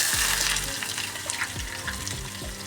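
Chopped onions hit hot oil already seasoned with cinnamon and cardamom in a pan for Bengali mutton curry, giving a steady close sizzle with occasional stirring scrapes and no talk.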